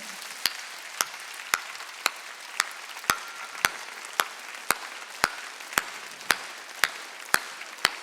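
A congregation at a Korean church Sunday worship service claps in unison, with sharp, evenly spaced beats about twice per second. A continuous hiss of background noise sits under the rhythmic claps.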